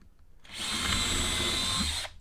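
A power drill drives wood screws into a piece of wood, a single steady whirring burst of about a second and a half, close and fairly loud, with no talking.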